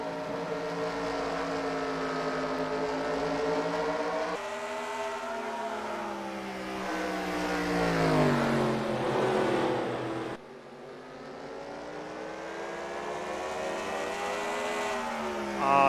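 Race cars roar through a heat race on an oval track after the green flag, engines blaring loud and steady, rising and falling in pitch as the pack passes, with no talk.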